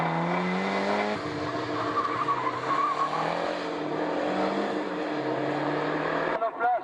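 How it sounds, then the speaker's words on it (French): A Renault R5 rally car races past during a hill climb, its engine note rising and falling as it accelerates and shifts, moderately near, then cutting off abruptly at the end. "Ce coup-ci, il dispose d'une R5"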